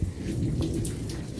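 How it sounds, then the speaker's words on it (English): Heavy rain pours in a steady, dense wash with a low rumble of thunder underneath, continuous and fairly loud outdoors during a bad storm. "It's still raining. You can hear that thunderstorm."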